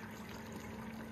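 Water from the discharge of an off-grid power system in remote Alaska, flowing at 30 gallons a minute, rushes and trickles steadily at low level in a short, continuous stretch.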